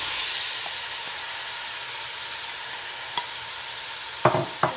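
Onions fry in hot oil in a pan on a high flame for chicken curry, giving a loud steady sizzle and hiss up close, with a few sharp clinks of a utensil near the end.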